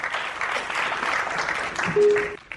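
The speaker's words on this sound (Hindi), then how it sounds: "आइए जोरदार तालियां हिंदुस्तान अखबार के लिए।" Applause from a ghazal and qawwali gathering marking a Hindustan Urdu daily newspaper anniversary, a steady dense wash of many hands clapping for the whole stretch, with a brief tonal note near the end.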